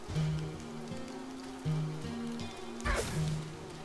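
Bees in the video game Ittle Dew 2 give off a soft, continuous buzzing drone, low-pitched and wavering, with a brief sharp game sound effect partway through.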